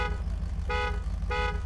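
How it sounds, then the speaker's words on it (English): Two short, bright honks from an off-road truck horn in Spintires: Mudrunner sound over a constant low idling engine, each blast about a quarter second long. "This is the best horn."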